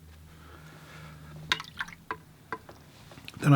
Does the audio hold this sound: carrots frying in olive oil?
no